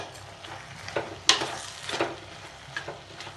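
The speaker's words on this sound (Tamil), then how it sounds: "இப்போது உப்பு போட்டு வதக்கிக்கலாம்." Ridge gourd sautéing with salt in a pan: a soft, steady sizzle with intermittent scraping stir strokes, moderately close and without talk.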